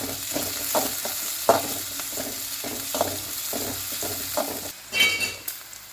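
Sliced onions and green chili sauté in oil in a pan for potato sambar. A steady sizzle runs under rhythmic spoon-scraping strokes, ending in a brighter clink of utensil on pan, close and moderately quiet.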